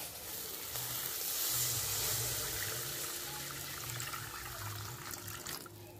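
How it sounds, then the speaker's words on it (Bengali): Water poured into curry spices frying in oil in a pan for a fish curry with cauliflower and potato, giving a soft, continuous hiss and sizzle that stays faint and steady. "এখন জল দিয়ে দিন।"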